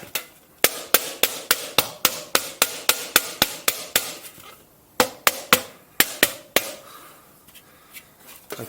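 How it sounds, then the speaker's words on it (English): A wooden hammer strikes sheet metal in quick, sharp, evenly spaced blows, about twenty close, loud whacks with short pauses, then a few softer taps near the end. "I'm going to punch here with this wooden hammer."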